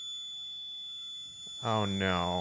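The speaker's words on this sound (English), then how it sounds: "That's the fire alarm." A house fire alarm sounds as a steady, piercing high-pitched tone held throughout, and a voice speaks briefly over it near the end.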